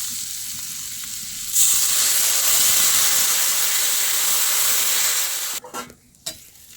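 Close, loud frying sizzle and hiss as turmeric is stirred in a hot pan, beginning quietly, swelling into a continuous steamy crackle, then breaking into scrapes and bumps near the end.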